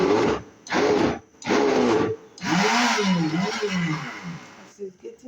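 A Silver Crest blender whirs through a thick mixture with added water, running in three short loud pulses and then a longer labored grind whose pitch wavers as the load shifts.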